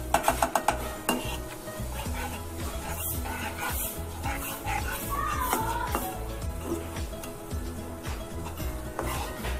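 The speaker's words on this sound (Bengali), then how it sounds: "আদার কাঁচা গন্ধটা বেরোনো অবধি ফ্রাই করবো এটাকে ভালো করে।" Ginger paste fries in a pan with a spoon stirring and scraping against the metal, giving continuous clinks and scrapes over a soft sizzle, close and busy throughout.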